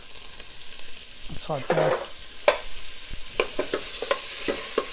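Prepped vegetables hit a pan of spices on low gas and fry with a steady sizzle, broken by sharp scraping clicks as they are stirred around; a brief voice speaks once.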